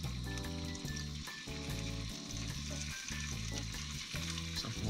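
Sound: bacon sizzling in a small frying pan

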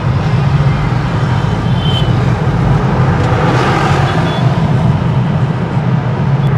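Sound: car driving across road marking lines at twenty km/h

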